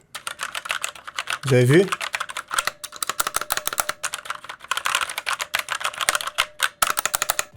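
Fast, crisp clacking from a budget mechanical keyboard with Red switches, priced around 30 euros, with bursts of rapid close-up keystrokes and a brief spoken phrase early on.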